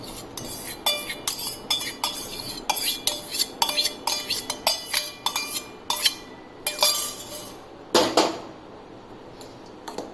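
Warm melted butter gets mixed into omappodi (sev) dough in a bowl, with a series of sharp clinks and scrapes of a spoon against the bowl coming in an irregular rhythm, close by and with no talk.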